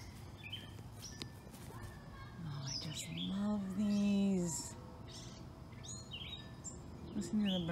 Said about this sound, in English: Listen to the birds. They're so happy here.